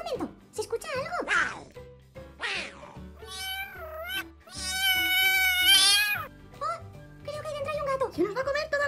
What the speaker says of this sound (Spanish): Seguro que Lola ha adoptado un gato más